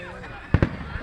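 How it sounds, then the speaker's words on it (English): Fireworks burst in two quick, close booms during a Maryland fireworks display, standing out over a low background hum. "I almost got 10 minutes worth of fireworks on this camera right now."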